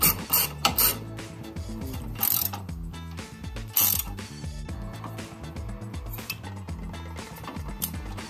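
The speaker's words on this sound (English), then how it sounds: "We'll get our sway bar end link nut tightened up." A hand ratchet clicks in quick bursts while tightening the sway bar end link nut on a Honda CR-Z during a front strut job, close and distinct against a low steady background hum.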